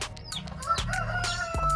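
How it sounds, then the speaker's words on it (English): A chicken at a petting zoo clucks and crows in a short burst of rising and falling calls, close and fairly loud, with other farmyard fowl sounds mixed in. "It's a chicken."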